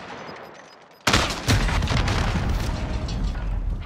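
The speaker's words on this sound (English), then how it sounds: "Hostile maneuver. I'm under fire." Sudden heavy burst of explosions and rapid gunfire from Call of Duty: Modern Warfare, loud and continuous after a quieter opening second, with dense rumbling booms layered under sharp shots.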